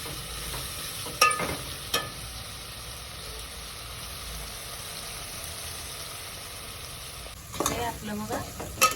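Masala mixture being stirred in a cooking pan for rice khichdi, a steady low sizzle with a few sharp spoon scrapes and clinks near the start and end.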